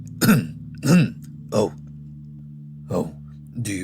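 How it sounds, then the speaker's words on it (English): A narrator performs a quick cough into a hand: a few short throat-clearing coughs spaced apart, close and clear over a quiet low hum. "and he coughs quickly in his hand."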